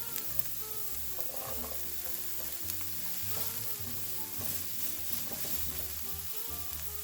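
Zucchini fries in a pan with caramelized vegetables, giving a constant crackling sizzle close to the microphone, with occasional stirring scrapes and clicks and a low hum beneath.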